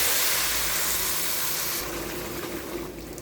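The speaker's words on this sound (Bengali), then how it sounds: "এখন চাল যা নিয়েছি তার ডাবল পানি দিচ্ছি, সঙ্গে নারকেলের দুধ সহ পানির পরিমাণ করেছি।" Water and coconut milk are poured onto fried rice in a pot for hilsa polao, making a steady rushing hiss and gurgle that shifts and softens partway through, with no talking.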